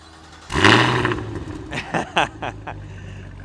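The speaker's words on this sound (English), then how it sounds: "let me just show you guys how good this engine sounds when you start this thing up" A 2023 Cadillac Escalade V's engine cranks and fires on remote start with a sudden loud roar, settling into a rumbling idle punctuated by several sharp revs.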